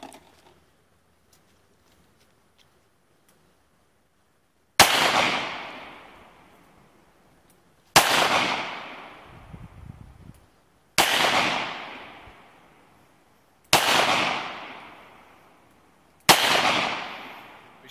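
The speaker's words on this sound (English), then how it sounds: "I'm gonna take a few shots of it now, see how it does." Five sharp, loud gunshots from a Smith & Wesson M&P .38 Special Bodyguard pistol fired outdoors at a can, spaced a few seconds apart after a quiet opening, each crack followed by a ringing decay.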